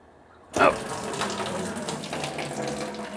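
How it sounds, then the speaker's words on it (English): Water from a home water filtration system line suddenly bursts out and keeps running steadily with a faucet-like rush, close and fairly loud, with no talking. "as soon as I see the water coming out, I know the system's full"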